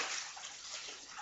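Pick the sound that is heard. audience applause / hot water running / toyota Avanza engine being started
hot water running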